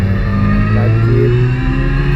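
An overhauled car engine with new piston rings and valve seals hums steadily while driving, a loud, continuous close drone with a slight rise in revs partway through.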